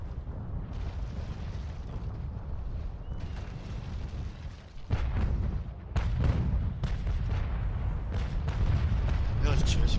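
Naval cannons fire in a fleet battle in a PvE video game, a dense, continuous barrage of booms with a sharp burst near the middle and heavier volleys afterward, while someone talks over it.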